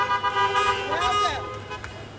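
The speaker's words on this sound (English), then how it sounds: "Let me hear some horns, Tootie, because you are excited and ready." Car horns honking at an outdoor back-to-school rally, a few overlapping toots and one longer blast, mixed with a buzz of crowd voices.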